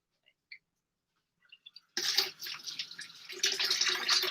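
Tap water runs into a kitchen sink while food is rinsed before cooking chicken and pasta, starting abruptly after a few faint clicks and continuing as a close, uneven splashing rush.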